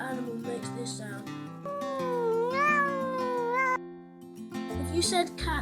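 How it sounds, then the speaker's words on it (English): Cat meowing in one long, wavering, plaintive meow that rises and falls over soft background music, close and clear, an animal sound quiz item. "If you said cat, you are correct."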